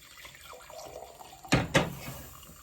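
Homemade ginger drink being poured, two quick splashes of liquid close by over a quiet background, with no one speaking.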